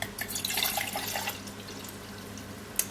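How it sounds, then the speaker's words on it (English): Colonoscopy prep liquid is poured into a cup, a soft steady splashing trickle close by that fades into a quieter stream, ending with a small clink. "I'm going to pour 250 into this cup to drink first of all."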